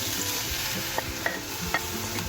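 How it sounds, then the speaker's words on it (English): Carrots stirred into melted ghee with cardamom in a pan for Indian carrot halwa, giving a steady close sizzle with a few soft scraping clicks of the spoon. "Next we will put carrots."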